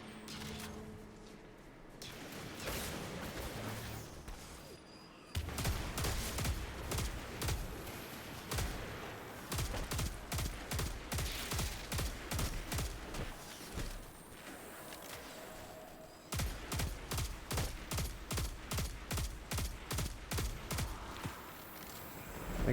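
Gunfire in the Destiny 2 video game comes as rapid bursts of evenly spaced shots, loud and rhythmic, in long runs broken by short pauses.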